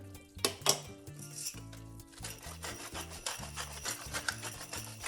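A spoon scrapes and clinks against a pot while tortilla-less soup is stirred, a close series of rubbing and knocking strokes with no talking.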